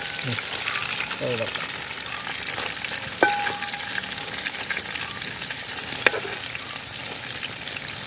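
Pieces of quail broast, a breaded fried quail dish, frying in hot oil, giving a steady close sizzle throughout with two brief clinks partway through and a faint voice murmuring at the very start.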